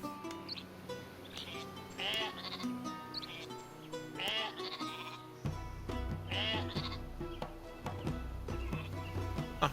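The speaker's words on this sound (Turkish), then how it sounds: "Burada da koyun var." Sheep bleat repeatedly in the video game Northgard, several short bleats over game music and ambient effects, moderately quiet.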